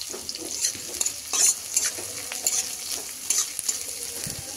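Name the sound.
onion and green chili frying in a pan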